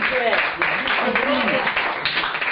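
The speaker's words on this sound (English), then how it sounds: "Big round of applause for Graham." Dense clapping from an audience at a poetry reading continues close and steady, with someone talking over it throughout.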